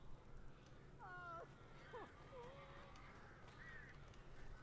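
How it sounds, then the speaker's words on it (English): Several crow-like caws ring out in the Alan Wake video game, a few separate calls spaced over a few seconds above a quiet low background hum, moderately faint. "These birds are weird."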